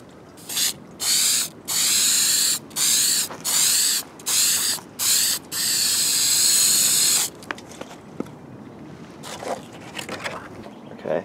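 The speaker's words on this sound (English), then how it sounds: "So what I'll do is I'm just going to spray this 2 passes" Super 77 spray adhesive being sprayed onto a balsa-sheeted hull of a model RC warship: a run of close, loud, rhythmic hissing bursts, then one longer spray, followed by faint handling clicks.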